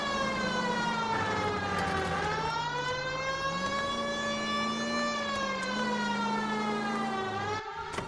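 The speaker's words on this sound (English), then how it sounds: "So all you hear in this is the siren?" A wailing police siren in the video game L.A. Noire rises and falls slowly in long sweeping cycles, loud and continuous with a low rumble beneath, cutting off near the end.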